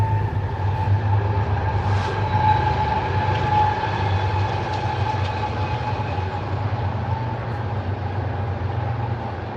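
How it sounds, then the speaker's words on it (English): A fast train runs past at speed, its loud steady rumble and rail noise filling the whole stretch close by, with no voices over it. "It's pretty rare that I hear a train come this fast."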